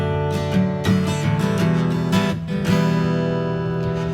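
Acoustic guitar plays a short chord progression in G with an inverted chord, giving a smooth stepwise bass line under strummed chords, close and clear with no talking.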